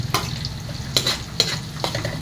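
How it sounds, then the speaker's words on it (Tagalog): Garlic sizzles in a hot pan for a Bicol-style bopis, with a steady frying hiss broken by a few sharp scrapes of a utensil stirring against the pan. "Hintayin natin mag-brown ang bawang at saka ang sibuyas maging translucent."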